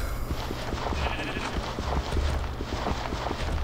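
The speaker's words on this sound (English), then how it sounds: "the Grimms sound like they bang on drums when they walk" Grimm mobs walking in a modded Minecraft survival world, producing rapid, even, drum-like thumping footsteps, fairly loud and close, with no talking.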